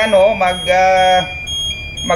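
An off-course alarm sounds during a test: close, loud electronic tones in pulsing bursts with a wavering pitch, then a short pause before it resumes.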